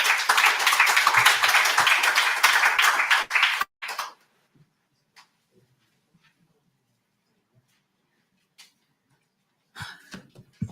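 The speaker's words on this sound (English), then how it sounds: "can you please give a warm round of applause for Mr. John Peters" Audience applause at a co-operatives and fishing industry breakfast summit rises as a loud, full round of many hands clapping for about four seconds, then cuts off abruptly into near silence with a few faint stray sounds.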